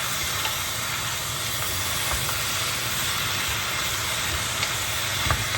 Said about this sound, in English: Cooking up the onions, browning up the onions and stuff actually adds flavor